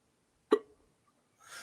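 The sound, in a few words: hiccup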